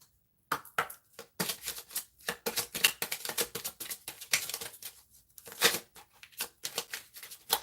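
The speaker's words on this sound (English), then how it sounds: "I was shuffling and this card wanted to come out" A deck of tarot cards is shuffled up close, giving a quiet, irregular run of crisp riffles and soft slaps that keeps going in short bursts with pauses between them.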